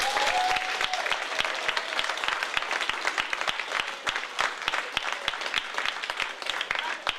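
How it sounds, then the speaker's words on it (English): Audience applause following a stage play, dense and sustained clapping from a full room that keeps a steady level throughout, with faint voices mixed in beneath it. "So can we thank Sammy for doing that?"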